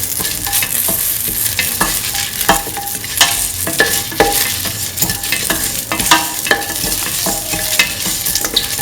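A spoon stirs ginger through a lentil, snake gourd and coconut milk stew in a pot, giving repeated loud scraping and clinking strokes over a low sizzle, close and continuous without speech.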